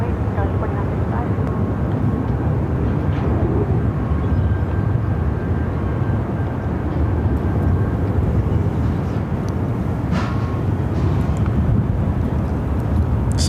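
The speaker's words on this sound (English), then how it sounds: "This American Airlines 737 MAX 8 we're looking at is headed to Mexico City." An American Airlines Boeing 737 MAX 8 takes off, a steady loud broadband jet roar sustained throughout, with faint voices underneath.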